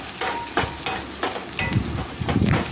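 Cashews, garlic and ginger sauté in a hot pan for a cauliflower gravy, a steady close sizzle broken by repeated stirring scrapes at a regular rhythm, with no voices.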